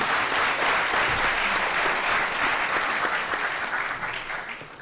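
Applause from a large assembly at a general council meeting, a steady wash of many hands clapping loudly throughout and easing slightly at the end.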